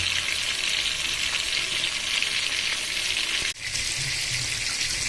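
Pieces of rui fish fry with potatoes in a pan, a steady, dense sizzle of hot oil running throughout, with a brief dip and a soft clatter midway as the pieces are turned.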